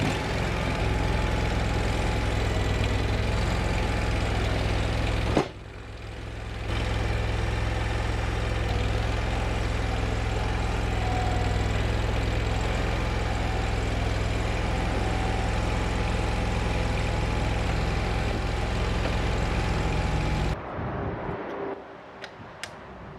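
A Steiner tractor engine runs at a steady idle, a constant low chugging drone with a light ticking on top, briefly dipping once and cutting out near the end.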